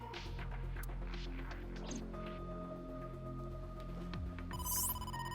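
A phone rings inside the video game Ai: The Somnium Files, a steady electronic ring tone heard clearly over a low humming game soundtrack, with no talking.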